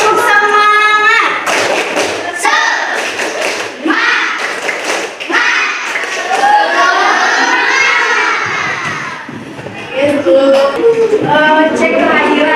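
A classroom group of children doing the 'tepuk semangat' clap chant, loud patterned rhythmic clapping mixed with shouted chanting voices, close and energetic, with a short pause midway before resuming.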